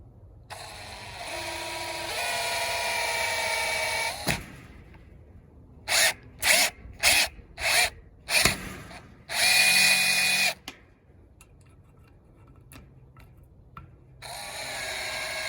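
A power drill drives screws while a Schlage doorknob and deadbolt are fitted to a metal gate, with long loud whirring runs, then a string of short bursts and a longer burst, broken by quiet gaps.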